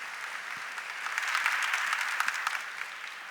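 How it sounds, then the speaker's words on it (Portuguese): A church congregation applauds after a Bible reading at a Catholic service, with a sustained, even wash of clapping that swells a little midway and then holds steady. "Aplauda a palavra de Deus."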